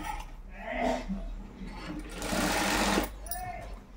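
A sewing machine runs in short whirring bursts while stitching a folded hem on a blouse of gold-coloured cloth, the motor rising to a steady buzz and stopping, with someone speaking over it.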